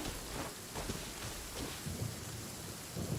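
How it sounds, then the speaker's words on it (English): A lightning strike and thunder in a video game bring a continuous, rumbling storm wash like heavy rain, steady and moderately loud throughout, with no speech. "How to get struck by lightning."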